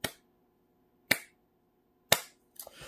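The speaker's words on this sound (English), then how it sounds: "I give the Jason Garrett clap." Three sharp, isolated hand claps spaced about a second apart in a Jason Garrett style, crisp and close, followed by a brief rustle at the end.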